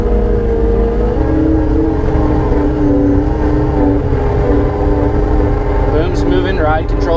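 A John Deere skid steer with a suspension and ride control system rolls across a driveway into gravel, its engine a steady, loud, close drone from start to finish, with brief higher rattles near the end.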